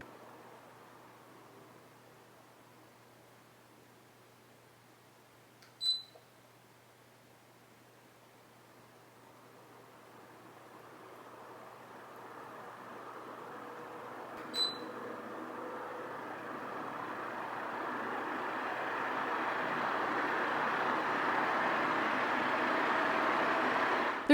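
Artika Austin ceiling fan in a room, a soft broadband whoosh that grows gradually stronger as it steps up through its speeds, with two faint clicks along the way.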